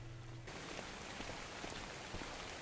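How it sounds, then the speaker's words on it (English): Steady rainfall in the ARK survival video game, a dense continuous hiss of drops at an even moderate level after a brief quieter start, with no talking. "Let's not worry about that rain just yet."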